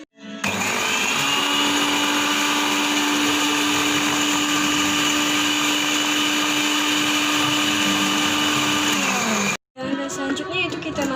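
An electric blender grinds spices with salt and coriander for tempeh, a loud, steady high whine running for about nine seconds before cutting off sharply, followed by brief clattering.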